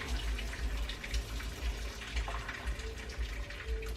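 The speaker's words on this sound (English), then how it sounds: "drain my penne pasta using my half lid" Water from cooked penne pasta pours out of a pot through a half-open lid into a sink, a steady close rushing gush with a low splashing rumble throughout.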